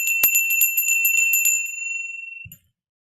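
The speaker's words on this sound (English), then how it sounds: "I take a bell to bring all the spiritual energy to focus around it" A small hand bell rung at a wealth altar, shaken in a quick bright run of rings that fades out, followed by a soft knock as it is set down.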